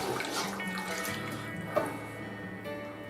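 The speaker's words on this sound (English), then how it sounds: "We're going to filter the rest of our broth." Hot beef broth is poured through a filter, a steady close splashing and trickling stream of liquid that runs continuously with a small splash partway through.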